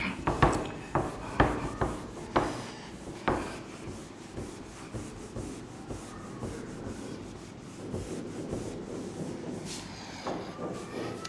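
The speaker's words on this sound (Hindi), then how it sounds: "तो चलिए इसको हम रब करते हैं।" A duster rubs writing off a classroom board, a series of brisk rhythmic wiping strokes at first that settle into steadier, softer rubbing, close and alone without talk.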